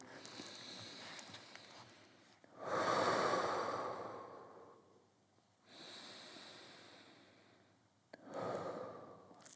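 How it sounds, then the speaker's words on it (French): Slow, deep breaths taken while holding a forward stretch in a mobility session, with long inhales and exhales in a calm, even rhythm, close and quiet with no speech. "Encore 2 respirations à son aise."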